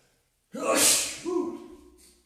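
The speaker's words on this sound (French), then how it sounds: "C'est quand je suis content et centré, j'éternue." A single close sneeze in a quiet room during a live body and breathing practice session: a sharp breathy burst followed by a short voiced tail.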